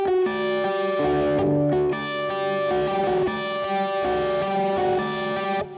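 Electric guitar with notes left to ring into one another, washing together through delay into a dense, blurred sustain, fairly loud and close with no talking.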